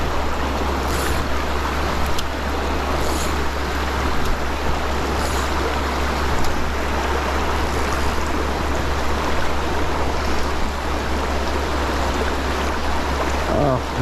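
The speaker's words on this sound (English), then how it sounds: "it's a very cool little creek" Steady rushing of a small trout creek flowing over rocks, constant and fairly loud, with a low hum underneath.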